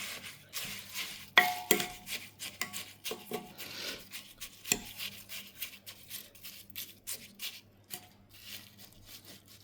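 Homemade herbal hair oil ingredients, including hibiscus leaves, are stirred and mixed in a container, giving close, uneven scraping and swishing strokes with soft wet patter between them and no voices.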